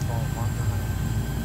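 Twin propeller engines of a Shorts 330/360 in Microsoft Flight Simulator throttle up into a steady low drone with a faint whine above, continuous and moderately loud, with someone talking over it.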